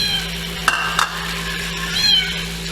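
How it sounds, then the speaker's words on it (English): A cat meows close by in a kitchen where squid fried rice and adobo are being cooked, two short meows followed by a longer drawn-out cry over a steady background hum. "I think the cat wants some."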